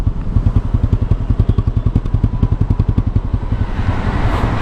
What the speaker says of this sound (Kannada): ಗಾಡಿ ಇನ್ನೂ ಆನ್ ಆಗಿದೆ ನೋಡಿ,